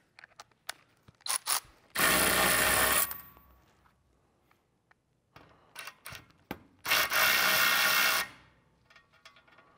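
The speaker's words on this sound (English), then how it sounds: "Use the ratchet to snug it down." A hand ratchet on a socket snugs down a radiator port fitting on a Porsche 996 911 Carrera. It clicks in two long, fast, close-up bursts, with small metallic taps and handling noises between them.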